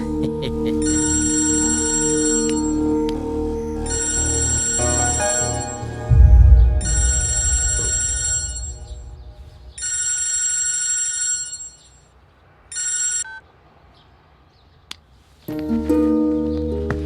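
A telephone rings loudly in repeated electronic bursts with short pauses between them, close by, then stops.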